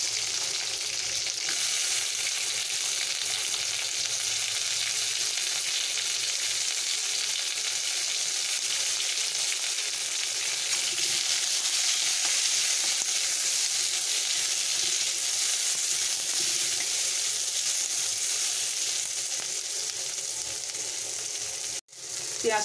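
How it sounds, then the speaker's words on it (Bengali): Onions dropped into hot oil tempered with black cumin and green chilli give a loud, steady, close sizzle and crackle that holds evenly throughout, with faint stirring and no talk, before cutting off abruptly near the end. "পেঁয়াজ দিয়ে দিলাম"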